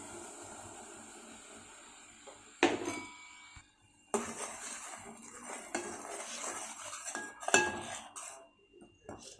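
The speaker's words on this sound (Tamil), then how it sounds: "அதை அப்படியே அதில் கொஞ்சம் கொஞ்சமாக கொட்டி கிளறிக்க போகிறேன்" Roasted ground rice being stirred into boiling water in a metal pot for a sweet rice dish, giving repeated clanks and scrapes of a spoon against the pot, with loud sharp knocks between quieter stretches and no talking.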